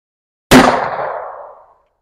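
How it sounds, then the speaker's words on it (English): A lead solid point bullet fired point blank strikes a water heater valve, making a single sharp, loud crack-clang that starts abruptly and then rings and decays over about a second before silence. "We're shooting a lead solid point right at this valve"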